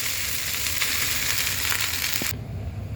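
Fried rice sizzles loudly in a pan as coriander leaves go in, a dense hissing crackle that runs steadily and then drops off sharply near the end.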